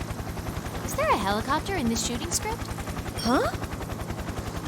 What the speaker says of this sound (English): What's this helicopter doing here?